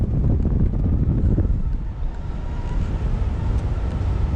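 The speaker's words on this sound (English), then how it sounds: "It's super windy up here." Strong wind while sailing off the Hebrides, Scotland, buffets the microphone in continuous low roaring gusts, loud and close, with no voices.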